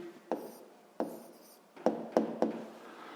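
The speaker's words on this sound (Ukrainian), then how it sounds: "Записуємо відповідь." Pen or pencil writing down the answer to a sixth-grade math exercise, heard as soft scratchy strokes with several sharper taps at irregular intervals, close and fairly quiet.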